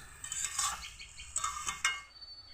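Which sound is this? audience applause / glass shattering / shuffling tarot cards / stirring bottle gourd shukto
stirring bottle gourd shukto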